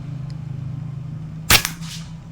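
A single sharp, loud rifle shot cracks out while a scope is zeroed at 20 to 70 meters, with a brief echoing tail over a steady low hum.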